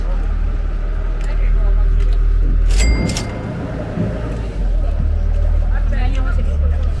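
A motorboat engine drones steadily and close on a canal in Italy, a low rumbling hum running throughout while people talk over it and another sharp noise cuts in briefly.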